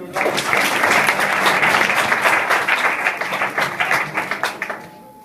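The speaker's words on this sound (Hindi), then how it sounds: "ताली बजाओ किशन के लिए।" Students at an intercollege in Azampur, Uttar Pradesh, break into loud, dense applause that holds steady, then thins into scattered individual claps as it fades.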